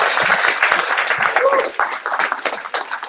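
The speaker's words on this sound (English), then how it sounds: "Would you please give another round of applause for those participants?" A graduation audience at a community re-entry program gives a round of applause for the participants, a fairly loud spread of clapping mixed with voices and cheering.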